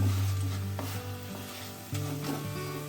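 Khoya filling with sweet potato and coconut sizzles softly in a hot pan while being stirred, with a low hum and faint scraping knocks, quiet and without talking.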